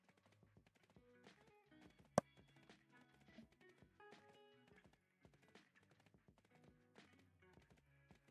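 Horse hooves in the Black Desert video game clip-clop in a steady, fairly quiet rhythm alongside game music, with one sharp loud click partway through.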